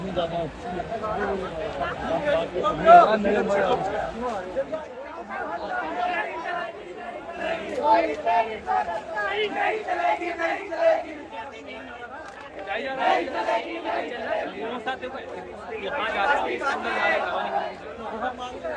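A large crowd of student protesters at Jantar Mantar fills the air with dense, overlapping chatter and murmuring, the babble swelling and easing in waves at a moderate distance.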